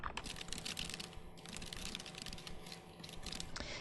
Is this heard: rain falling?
no